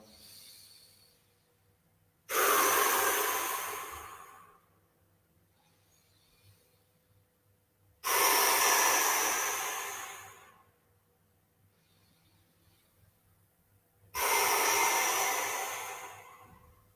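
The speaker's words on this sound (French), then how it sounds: "J'inspire par le nez. Et je souffle par la bouche." A person breathes in through the nose and blows out through the mouth during a slow breathing exercise, giving three long, loud, close breathy exhales spaced evenly apart with quiet pauses between them.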